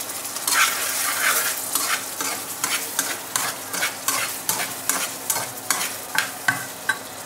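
Spinach fries in a pan meant for shrimp and green chilies, giving a loud, close sizzle punctuated by a regular series of sharp scraping strokes from stirring, with no talking.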